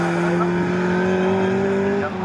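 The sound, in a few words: Mini race car on track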